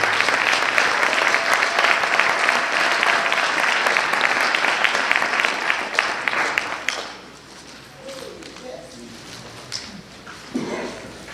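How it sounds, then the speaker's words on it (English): Loud applause from a crowd at a building dedication ceremony fills the first seven seconds, then fades, leaving murmuring voices and faint scattered sounds. "let's give one more round of applause for this very special occasion"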